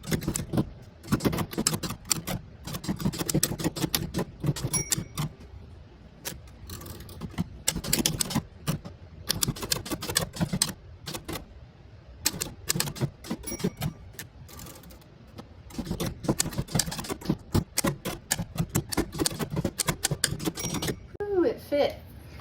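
Keys of a typewriter being struck to type out a thank-you card, giving irregular bursts of sharp clacks with brief pauses between runs, fairly close and quiet.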